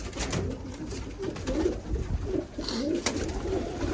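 Pigeons cooing inside a coop, repeated throaty rolling coos from several birds close by over a steady background hum, with a few wing rustles and clicks between calls.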